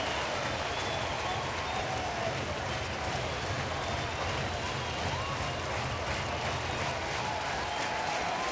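A capacity baseball stadium crowd of more than 30,000 at a Friday-night Reds game against San Diego cheers and applauds in a dense, continuous roar that stays loud from start to finish.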